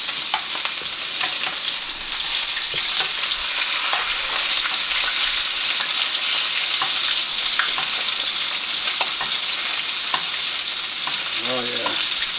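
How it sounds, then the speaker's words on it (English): A rib eye steak sizzles loudly in a pan as butter is spooned over it, a dense, continuous frying hiss with faint scraping and crackle throughout, close up and without voices. "We're going to start basting that with some butter."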